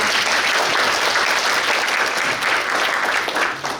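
Audience applause at a policy talk show on shifting to people-centred ecological transport policy in Suncheon: steady, dense clapping from a seated crowd, loud and continuous throughout, with no speech over it.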